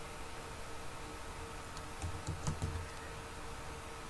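Computer keyboard keys tapped to type a short search word, a quick faint cluster of clicks over soft room hiss, with no talking.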